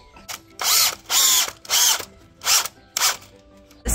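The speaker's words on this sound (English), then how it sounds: "playing with Dad's drill" A power drill whirs in five short bursts, each lasting about half a second with brief pauses between, loud and close.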